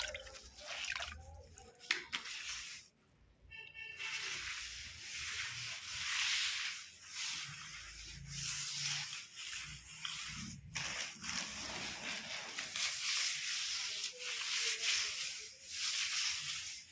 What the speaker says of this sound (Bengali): ঘরগুলি সব মুছে নেব